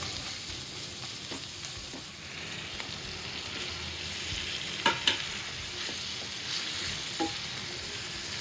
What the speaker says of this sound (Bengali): একটুখানি ধনিয়ার গুঁড়া দিচ্ছি ইয়া করার জন্য।